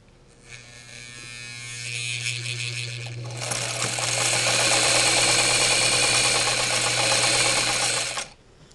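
A Singer Model 237 sewing machine stitches purple upper thread and beige lower thread, despite a tension issue. Its motor whirs up, then settles into a loud, continuous, close mechanical hum of needle strokes before stopping abruptly.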